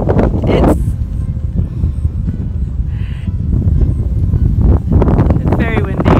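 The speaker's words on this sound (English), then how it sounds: "It's very windy." Steady low rumble of wind buffeting the microphone outdoors, with a voice talking over it at times.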